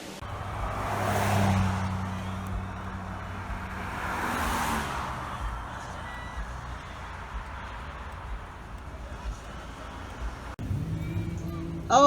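A car driving through Roslindale Village toward a farmers market, heard from inside as a continuous low road and engine rumble that swells and fades gently, with a voice talking over it.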